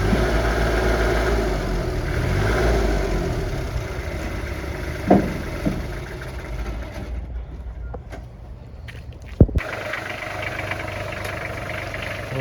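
A Kubota L1-235, an old Japanese compact tractor, runs with a steady diesel rumble and a low, even engine drone throughout, broken by a couple of sharp clanks and knocks toward the end.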